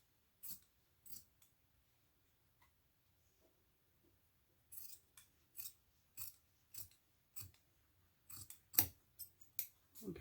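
Scissors trim the lining pockets of a fabric hobo bag: a couple of isolated snips near the start, then a steady run of crisp close cuts, each a short sharp crunch, with quiet handling between.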